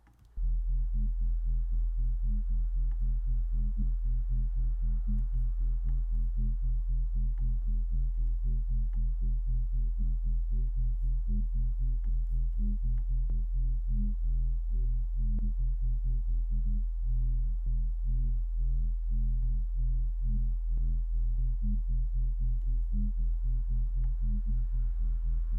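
A synth bass tone fed through an LFO-modulated filter and distortion pulses in a fast, steady wobble for the whole stretch, deep, buzzy and loud with no voices over it, as built for minimal drum and bass.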